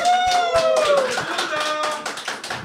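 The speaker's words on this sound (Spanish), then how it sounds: "¡Aplausos, banda!" Crowd clapping at a lively Mexican gathering, sharp repeated claps beneath a loud excited voice and a whistle-like tone.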